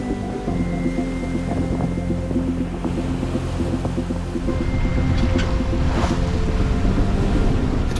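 Sailboat moving through North Sea waves: a steady low hum and wind buffeting the microphone, with water sloshing and splashing against the hull, getting rougher and louder toward the end.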